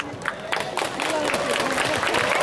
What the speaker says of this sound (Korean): 힘찬 박수로 다음 곡 맞이해보도록 할게요